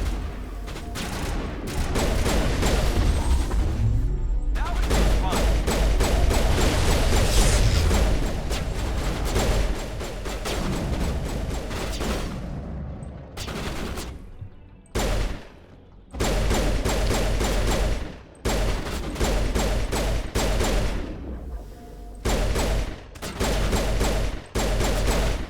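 Enemy gunfire in Mass Effect, dense loud rapid bursts of automatic shots in long volleys, broken by short silent gaps and then resuming in choppy repeated bursts.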